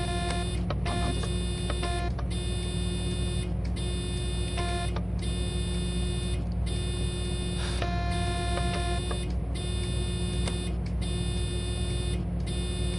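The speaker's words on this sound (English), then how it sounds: "so we don't have to hear that annoying beeping" Persistent warning beeps sound inside a locomotive cab in the train simulator Train Sim World 2 on the Munich–Augsburg main line, repeating in regular pulses over a constant electrical hum and engine drone.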